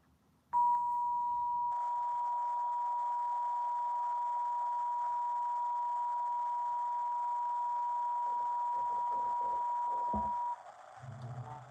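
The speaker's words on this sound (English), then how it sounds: "all of the solfeggio frequencies, they really are just these pure tones" A solfeggio pure tone for sound healing holds as one steady, unwavering sine note for about ten seconds, loud and alone, then cuts off with faint room noise after.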